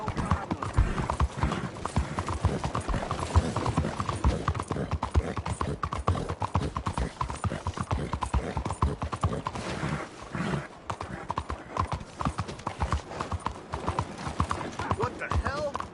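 A horse in Red Dead Redemption 2 gallops with rapid, heavy rhythmic hoofbeats throughout, and a whinny is heard along the way, with a voice speaking over the hooves at times.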